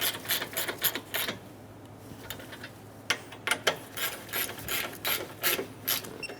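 A ratchet clicks in quick rapid runs while snugging down alternator bolts on a 2003-2007 Honda Accord V6 3.0L, short bursts of close mechanical ticking separated by brief pauses.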